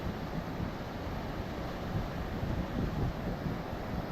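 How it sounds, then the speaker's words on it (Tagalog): Rough sea waves during a typhoon churn and crash steadily, a broad roaring wash mixed with gusty wind, with no voices. "So ang karagatan ngayon parang nagagalit"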